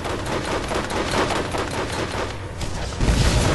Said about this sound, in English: Who else shooting us?